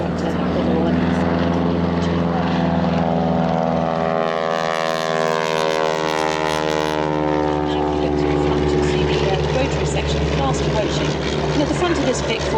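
Agusta Bell Sioux helicopters flying past in a big formation at an airshow, a loud sustained rotor and engine drone that sweeps in pitch as they pass, under an announcer's talk.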